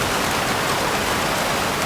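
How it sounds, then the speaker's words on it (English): Heavy rain pours steadily outdoors in an August storm, a dense, continuous broadband hiss of drops striking surfaces, loud and unbroken throughout with no voices. "All the fucking rain is coming down."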